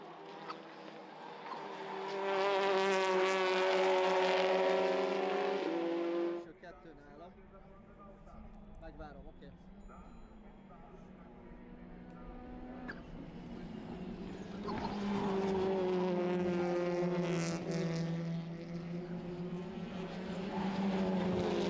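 TCR touring cars racing at Oschersleben, including a Hyundai Elantra, with engines roaring past loudly, fading, then building again, under continuous race commentary.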